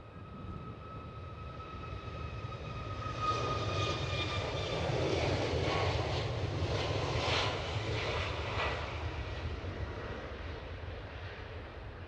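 A plane takes off at Edinburgh Airport, its engine roar building steadily to a loud peak midway and then slowly fading as it climbs away, with a high whine over the rumble.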